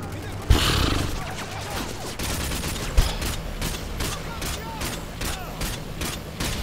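Rapid gunfire in a sniper challenge in a video game, sharp repeated shots cracking over a dense, busy game soundscape, loud and close.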